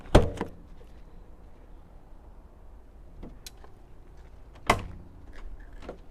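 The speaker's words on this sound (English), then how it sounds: "Let's open up these rear doors." The rear doors of a 2022 Entegra Ethos Li 20TL B-Class RV are unlatched and swung open. A sharp clunk comes first, then light taps and a second solid latch click, all close and fairly quiet.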